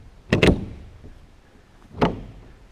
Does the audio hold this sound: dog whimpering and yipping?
no